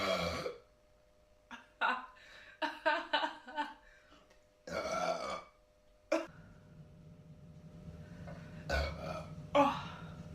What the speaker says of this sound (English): Those aren't very good burps.